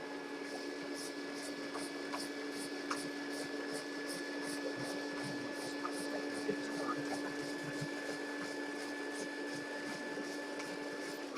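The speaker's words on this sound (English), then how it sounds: "let me just vacuum that cushion" A vacuum cleaner runs over a couch cushion with a steady, high-pitched motor whine that holds unbroken throughout, moderately loud and close, with no one speaking.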